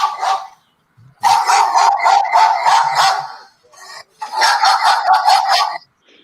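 A phone alarm for taking medication that sounds like barking dogs, loud repeated yapping barks in two long bursts close up, with a brief pause between.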